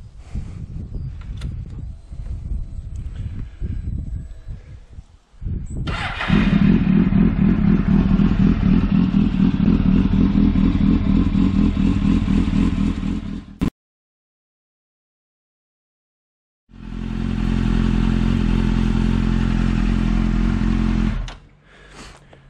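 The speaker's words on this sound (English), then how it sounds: "start the bike up, get the oil nice and warm" A 1998 Suzuki GSXR750 SRAD motorcycle engine cranks with clattering, fires up and idles loudly and steadily, cuts out abruptly, then starts again and runs before stopping, close by in a garage during an oil service.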